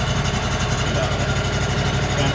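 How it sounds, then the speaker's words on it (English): A sawmill engine runs at a steady idle while a log is being milled, a continuous low mechanical drone with a throbbing rhythm, close and fairly loud, with no voices. "and then we will engage the engine."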